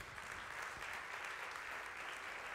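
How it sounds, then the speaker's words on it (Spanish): A church congregation breaks into steady applause, dense and even clapping filling the room without pause for the whole stretch. "Le das aplauso para que no camines en tinieblas."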